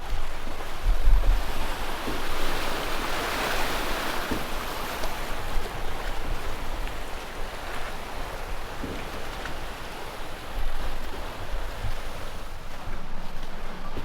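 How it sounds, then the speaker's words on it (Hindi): Ocean waves surging and splashing against a deck at a Maldives resort, a continuous rushing wash with wind buffeting the microphone and swells rising and falling. "बहुत तेज तेज छींटे फेंक रहे हैं हमारे ऊपर पानी की।"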